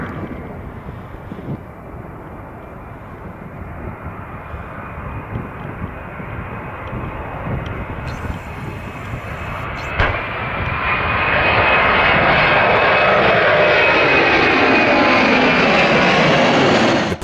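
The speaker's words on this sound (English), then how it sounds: "This DHL Airbus A300 was taking off from Amsterdam" A loud DHL Airbus A300 engine roars steadily, then swells sharply in pitch and volume as it powers up for takeoff from Amsterdam before a bird strike, staying close and intense.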